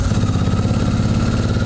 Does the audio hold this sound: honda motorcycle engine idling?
yes